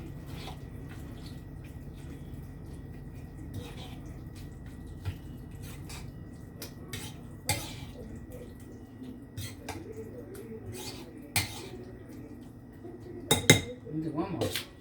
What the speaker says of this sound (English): And then you just stir this all up.